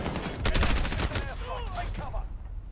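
Rapid bursts of automatic gunfire from an HK416-style loadout in Call of Duty: Modern Warfare (2019), loud and close, crackling for about a second and a half before thinning into softer in-game sounds.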